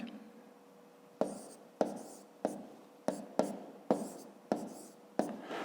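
Pen strokes on paper write numbers for a fifth-grade multiplication exercise, a run of about eight quick scratchy bursts close up in a quiet room.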